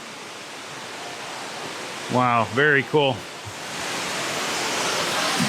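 Steady broadband rush of Minnehaha Falls in Watkins Glen Gorge fills the whole clip, with a short burst of excited speech briefly rising over it near the middle.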